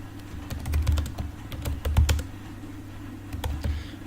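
Typing on a computer keyboard in an office setting, with quick bursts of close, crisp key clicks separated by short pauses.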